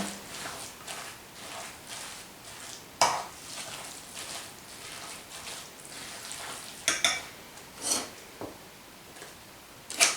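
A spoon scrapes and stirs through a thick mixture in a bowl, with irregular soft strokes and a few sharper clacks against the side.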